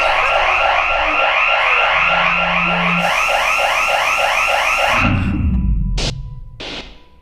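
A house alarm in a horror film blares loud and close, a rapid warbling electronic wail that runs for about five seconds before cutting out as the power fails, followed by a couple of short tonal bursts and fading quiet.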